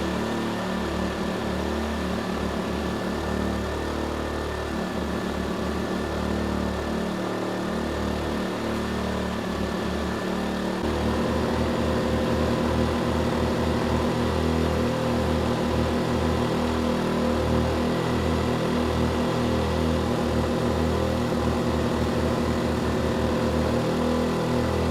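Erayak 4500PD tri-fuel generator running under a 6,000-watt load, a loud, steady engine drone with a throbbing, rhythmic pulse that shifts to a slightly different beat partway through, with no talk.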